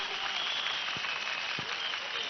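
Applause from an outdoor Thai crowd honoring a red, white and blue Thai-flag decoration, heard as a steady wash of clapping at moderate distance, with a couple of louder nearby claps.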